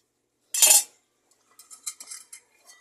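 A metal utensil stirs a cooking pot, with one sharp clank followed by a quieter run of light metallic clinks and scrapes, close by and with no voices.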